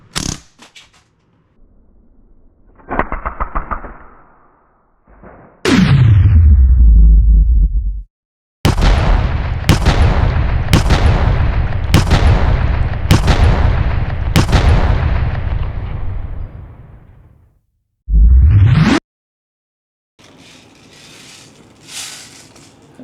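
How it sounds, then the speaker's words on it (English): A full-auto BB gun fires a six-shot burst of .177 steel BBs at a ballistic dummy: a string of crisp, evenly spaced loud cracks, set off by sharp whooshing blasts before and after, with a faint rustle at the end. "this is gonna be full auto 6-shot burst to the face with .177 steel BBs"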